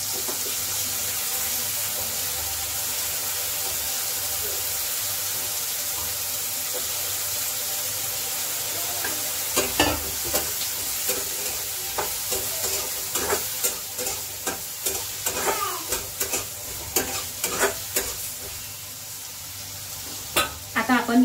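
Carrots go into a hot pan and sizzle steadily while being stirred, with repeated scraping and clattering strokes in the second half, up close, and a faint running-water hiss beneath.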